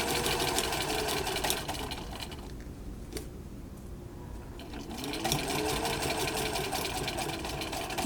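A sewing machine stitches a fabric mask at a shortened stitch length, running in a steady close whir that eases briefly in the middle before resuming at full speed.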